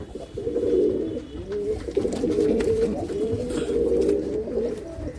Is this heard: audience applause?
no